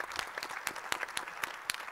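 Scattered applause from a conference audience at a sports panel, with sparse individual claps spread irregularly over a couple of seconds, fairly quiet and thin rather than a full ovation.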